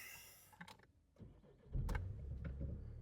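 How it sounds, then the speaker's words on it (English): A 2019 Vauxhall Insignia B with a 1.6 ECOTEC diesel engine cranks and fires, a brief whirr and clicks giving way to a loud, steady diesel idle that settles in close to the microphone. "Start engine. There we go."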